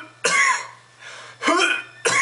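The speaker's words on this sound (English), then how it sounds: "you can actually do this and cough" Three sharp, forceful coughs made with a tightened diaphragm, close and loud, separated by short breathy pauses, with a faint steady hum underneath and no talking.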